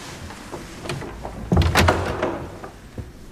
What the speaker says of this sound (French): La porte !